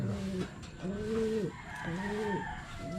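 A pigeon coos nearby in three soft, throaty bursts with short pauses between, fairly quiet against faint background noise.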